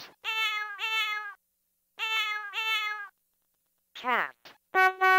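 A synthesized cat from a 1994 VTech Little Smart Talking Alphabet Picture Desk toy gives two pairs of clear meows, followed by a short spoken voice and another electronic tone.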